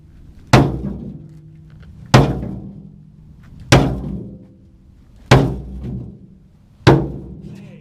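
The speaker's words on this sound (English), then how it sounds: "Trusty sledgehammer." A sledgehammer pounds the metal of a tractor bucket for a Leyland 272, five heavy ringing blows landing at a steady, evenly spaced rhythm, each one loud and close and followed by a short decay.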